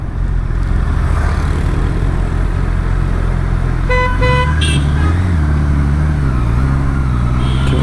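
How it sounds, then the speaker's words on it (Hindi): Car horns sound at a red traffic signal in Bangalore, with a couple of short honks over a steady loud rumble of idling engines and traffic noise, heard from a superbike waiting in the jam. "यहाँ तो रेड सिग्नल पे रुको तब भी लोग हॉर्न बजाने लग जाते हैं"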